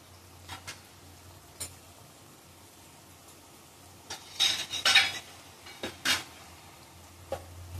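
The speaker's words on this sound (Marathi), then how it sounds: "परत झाकण ठेवते." A lid goes back onto a pan of white onion sabzi cooking on the stove, with faint metallic clinks and scrapes: a few scattered ticks, then a brief cluster of louder clatters near the middle, all quiet and close.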